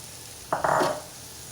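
Six cups of shredded cabbage hit a hot pan for spring roll filling, giving a short, sudden hiss and sizzle that fades after about half a second.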